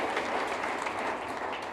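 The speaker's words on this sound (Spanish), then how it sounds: "Le dan un aplauso al Señor." A church congregation applauds together in a dense, even wash of clapping that stays steady and fairly close for its whole short length, with no voices standing out.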